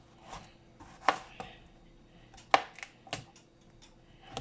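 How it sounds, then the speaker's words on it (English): A knife slices zucchini in half on a cutting board, giving a few sharp, separate thunks spaced over several seconds, close and clear against quiet. "Cut the zucchini in half."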